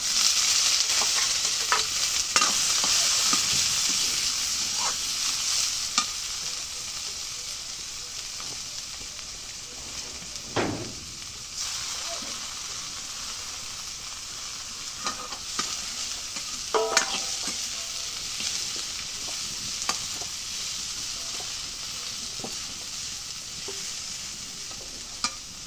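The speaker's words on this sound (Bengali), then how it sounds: "এখন পেঁয়াজ মরিচ ভাজা হয়ে গেছে।" Onions and green chilies fry in oil in a wok while being stirred, giving a steady, close sizzle with scraping spatula strokes throughout, no talking.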